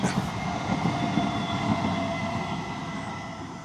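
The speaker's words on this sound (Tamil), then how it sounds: "இங்கே பாருங்கள் பக்கத்துலேயே ட்ரெயின் போகும் ரயில்வே ஸ்டே இந்த ரயில்வே ட்ராக்" A train runs along the railway track beside a temple in Kanchipuram, a close, continuous rolling rumble of wagons with a faint wheel squeal, slowly fading toward the end.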